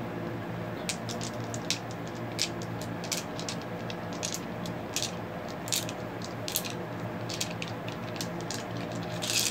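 Zombie Dice are shaken and rolled on a table, a run of light clicking and rattling taps scattered across the whole stretch, fairly close and with no voices.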